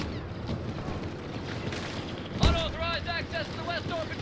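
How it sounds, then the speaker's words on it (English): Gunfire in Star Wars Battlefront II on Xbox One, a sharp blast followed by a string of rapid blaster shots under a low wash of battle noise. "I'm getting shot left and right."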